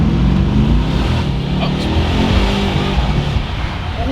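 A 2019 Mercedes C63-S engine revs and accelerates hard, a loud, steady low-pitched roar held close throughout with no break.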